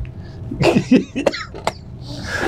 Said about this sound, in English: I've had this cough, folks, for ages